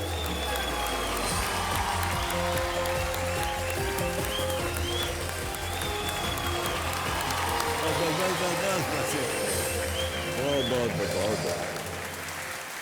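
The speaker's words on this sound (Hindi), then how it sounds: "तालियों के साथ ताज मोहम्मद जी का स्वागत किया" Studio audience at a TV quiz show applauding steadily to welcome a contestant, a sustained wash of clapping with some cheering and a host speaking over it.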